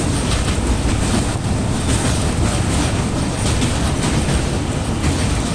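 A passenger train rolls over a river bridge in Odisha near Cuttack, a loud, steady rumble of wheels and carriages with faint clickety-clack running throughout, no voices.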